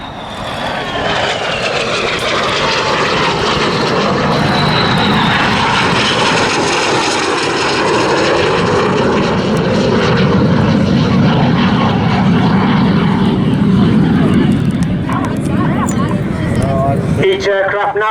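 RAF Red Arrows display jets pass over an airshow at Southport, a loud continuous engine roar with shifting pitch as aircraft sweep by, while a commentator talks over the noise.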